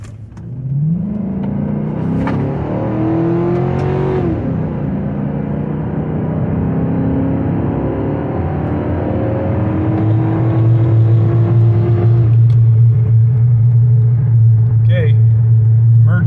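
A 2007 GMC Sierra pickup accelerates hard on a road, engine rising through loud climbing revs with gear shifts, then settling into a steady heavy drone, heard from inside the cab.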